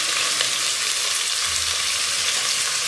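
Small shallots and garlic cloves fry in hot oil for a mutton kuzhambu, giving a steady, close, dense sizzle that holds evenly throughout with no voices.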